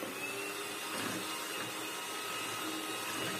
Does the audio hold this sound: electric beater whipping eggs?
yes